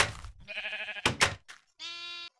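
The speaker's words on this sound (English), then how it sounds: "right click on a sheep. There you go. Look at the little baby sheep." Sheep in the Minecraft video game bleat in short, close, buzzy cries, with a dull thump or two between them and a final clear, sustained bleat.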